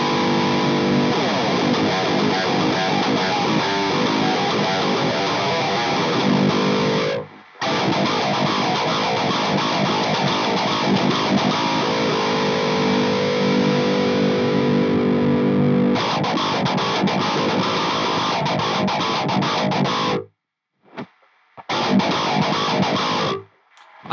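An electric guitar is played through a Stonegate Black Messenger distortion pedal with the gain cranked, giving thick, saturated, buzzing chords and riffs, loud and continuous, with brief cut-offs near the end and no feedback.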